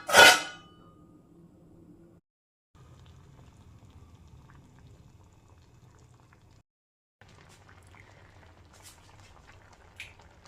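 Yam curry simmering in a covered pot, a soft low bubbling that runs steadily after a brief knock of the lid at the start and carries on alone, quiet and close, with a small clink near the end.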